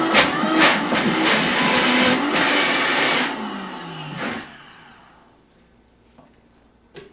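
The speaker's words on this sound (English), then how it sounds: "so we're done blending here" A powerful Vitamix blender blending fruit roars loudly at full speed, then winds down and fades out, leaving a few faint knocks and clicks.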